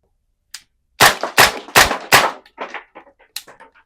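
An airsoft pistol fires tracer BBs at a target at night: one short shot, then four loud sharp cracks in quick succession, followed by fainter ticks and impacts trailing off.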